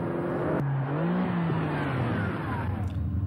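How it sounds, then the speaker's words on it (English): A Ferrari 599 GTB's 12-cylinder engine sweeps up and down through its revs with a smooth, sustained whine, loud and close, with a brief shift-like break and no voices. "Today, that engine powers the 599 GTB, the highest performance 12-cylinder car Ferrari has ever produced."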